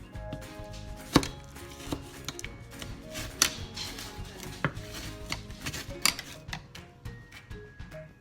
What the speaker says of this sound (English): So my spinach is already chopped a little bit, but I'm gonna chop it a little bit more to get it the way I want it.